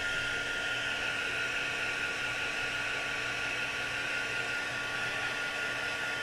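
A hair dryer blows on wet paint on a junk journal page, making a steady, close whooshing hiss with a constant hum throughout and no speech.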